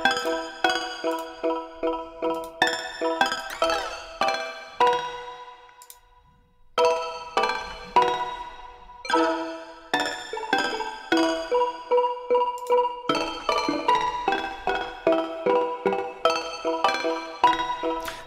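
Synth tones processed with reverb, saturation, a high-pass filter and delay, sounding as repeating melodic notes with echoing repeats whose timing shifts as the delay time is automated and the feedback is turned down, with a brief gap midway and no voices.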